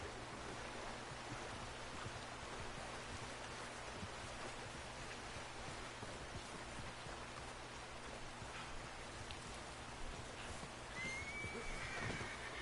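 Steady rain patters on a surface while a horse whinnies once, faint and somewhat distant, near the end, in the video game Red Dead Redemption 2.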